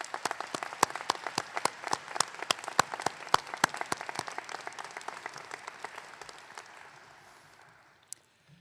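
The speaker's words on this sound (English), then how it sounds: "let's take a moment and give them a round of applause" An audience at a graduation commencement applauds steadily with crisp, sharp claps that slowly thin out and fade, ending with a last stray clap.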